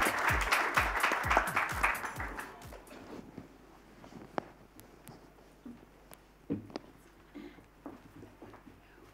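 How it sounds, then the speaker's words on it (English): Audience applause follows the concluding remarks of a financial sector session at an India ideas summit, starting as a brisk burst of clapping that thins over a few seconds into scattered claps and room noise. "Can I have a round of applause?"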